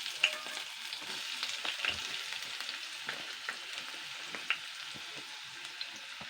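Chopped onion frying in oil in a pan, a soft steady sizzle with light crackles and a few faint taps of a spoon, close but quiet, no voices.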